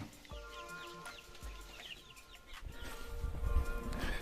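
Chickens cluck repeatedly at close range in short, throaty bursts, while rustling and rumbling noise builds underneath toward the end.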